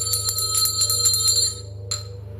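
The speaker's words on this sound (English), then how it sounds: "A bell rang back, ring that bell again." A small bell rings in a room, a rapid bright jingling run of strikes lasting over a second, then a short fainter ring after a pause, over a steady low hum.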